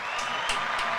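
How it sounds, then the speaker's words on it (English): Brief burst of audience applause with a few whoops on a rap podcast set, dense clapping throughout the short moment. "Round of applause, AJ."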